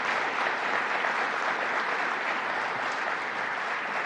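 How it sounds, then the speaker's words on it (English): Sustained audience applause at a public announcement event by a state governor in Syracuse, a dense steady wash of many hands clapping with no talk, moderately loud throughout. "So let's give them another round of applause."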